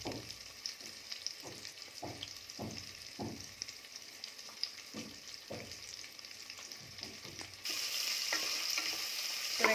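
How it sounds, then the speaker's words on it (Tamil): Onions and curry leaves sauté in a pan for coconut milk rice. A spatula scrapes and stirs in a steady rhythm over a low sizzle that grows louder and brighter near the end; no one speaks. "இப்போ வெங்காயமும் கொஞ்சம் வதங்கிடுச்சு."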